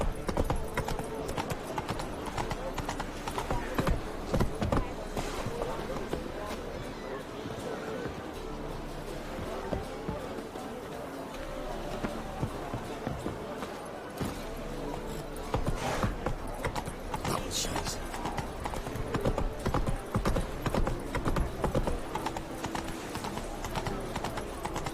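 Horse galloping in The Witcher 3 video game, with steady rapid hoofbeats running throughout alongside a game soundtrack and occasional whinnies, loud and close.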